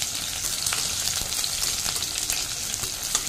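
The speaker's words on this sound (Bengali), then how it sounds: "আলুটা দিয়ে দিচ্ছি। এই সময় আমি কাঁচা লঙ্কাটাও দিয়ে দিলাম, ভালো করে ফ্রাই করে নেব" Potatoes, mustard seeds and green chili sizzle steadily in hot oil, a dense continuous frying hiss with occasional small pops and stirring scrapes throughout.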